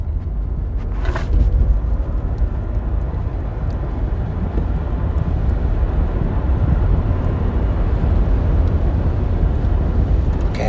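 A Nissan Leaf electric car accelerates at full power with a steady broadband road and cabin rumble, a low drone that stays even and continuous, heard from inside with no talk.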